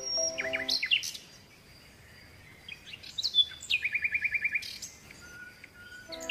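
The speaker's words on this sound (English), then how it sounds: "P for parrot." Bright chirping bird calls, a few sharp whistled notes followed by a quick run of rapid repeated chirps, close and clear over faint background hiss.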